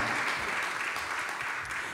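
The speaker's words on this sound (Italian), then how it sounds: "Applauso meritato." Audience applause at a town event in Vaccarizzo Albanese, Calabria, a brief, even patter of many hands clapping at moderate volume with no voices over it.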